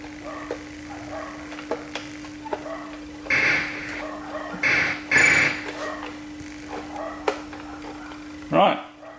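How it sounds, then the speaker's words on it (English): A small dog yaps a few times in short, sharp bursts at middle distance, with a steady electrical hum and scattered clicks in the background. "That's a little dog's barking"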